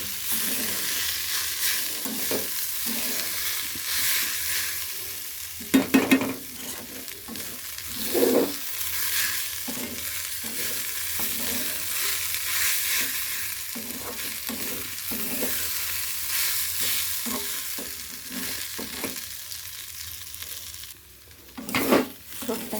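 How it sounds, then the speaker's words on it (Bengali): Banana stem fries in a pan with a steady sizzle, broken by intermittent scraping and clatter from a spatula stirring it up close, with no talking. "থোড়টাকে এবার ভালো করে আমি ভেজে নেব।"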